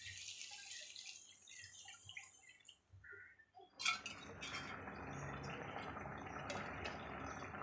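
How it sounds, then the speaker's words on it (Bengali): Water poured into an eggplant and hilsa curry (begun tel) cooking with dried chili paste: a quiet stretch, then a sudden rushing, splashing pour that settles into steady bubbling and hissing. "জল দিয়ে দিলাম।"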